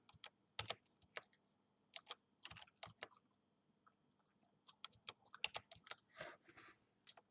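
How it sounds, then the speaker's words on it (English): Numbers are typed on a computer keyboard in quick irregular bursts of crisp key clicks with short pauses, close and quiet with no voices. "Let's check it just by typing in numbers here."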